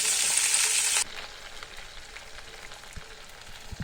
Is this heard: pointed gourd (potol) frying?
yes